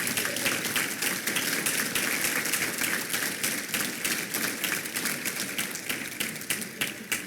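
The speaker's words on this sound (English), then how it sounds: "Round of applause." A large audience at an awards ceremony keeps up a sustained burst of applause. The dense clapping is loud and continuous from start to finish, with a general crowd hubbub underneath and no speech.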